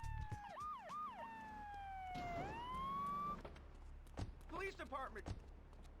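Police siren from the video game GTA 3, wailing and yelping through several sweeps up close, then fading as game sounds continue with someone talking over it.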